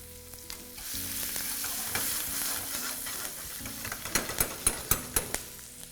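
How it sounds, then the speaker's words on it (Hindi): Asafoetida, ginger and green chili hit hot oil with a loud continuous sizzle, and a spoon stirs and taps against the pan in a run of sharp clinks toward the end. "ये तेल में गई पहले हींग, फिर"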